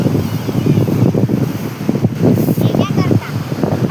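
Sea waves splash and wash onto a beach in steady surges, with strong wind buffeting the microphone and a person talking over the noise.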